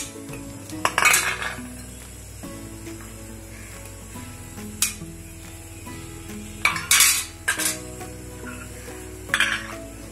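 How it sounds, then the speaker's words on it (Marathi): Metal idli steamer plates are oiled and handled in a home kitchen, giving scattered bright clinks and scrapes of metal on metal at close range over a low, steady background hum. "इथे मी तेल लावते इडली पात्राला।"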